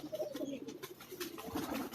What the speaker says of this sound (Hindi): ये सिल्वर कबूतर है।